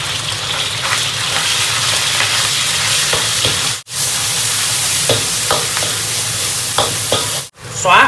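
Minced pork spits and sizzles loudly in hot rapeseed oil in a wok, with steady close frying noise, scraping stir strokes, and two brief silent breaks.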